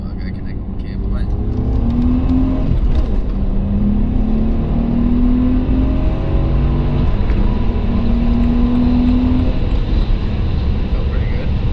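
A BMW with the N54 engine and JB4 tune accelerates hard in second gear, a loud, steady engine drone that climbs in pitch from inside the car, with voices talking over it.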